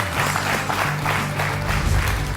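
Loud, dense applause from a television studio audience, steady clapping throughout with a faint crowd murmur.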